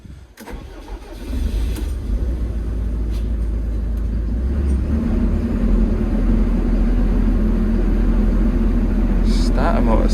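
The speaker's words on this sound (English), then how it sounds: "Starter motor seemed to stick on a bit there, I thought." A diesel vehicle with an AdBlue/DEF pressure fault cranks on its starter, which seems to stay engaged briefly as the engine catches and settles into a loud, steady idle, with a voice speaking over it.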